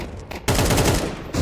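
AWP sniper rifle fire in a Counter-Strike match on Dust2, a loud, dense burst of gunfire that cuts in abruptly after a quieter moment and holds for about a second before dropping off.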